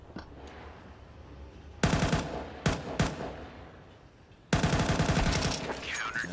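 Gunshots in a Counter-Strike match at a PGL Bucharest 2025 esports tournament: several sharp loud bursts and single cracks separated by quieter gaps, ending in a sustained volley, with faint caster talk underneath.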